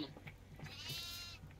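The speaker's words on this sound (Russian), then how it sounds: "Вот козленок, козленок." A goat kid in a video game bleats once in a short, wavering cry, faint and brief over a quiet background hum.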